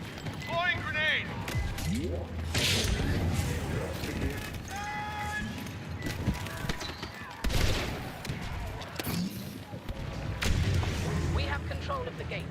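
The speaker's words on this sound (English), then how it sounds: "Throwing grenade." A grenade explodes in Star Wars Battlefront II amid constant blaster fire and battle noise, with booming blasts over the fighting and voices talking throughout.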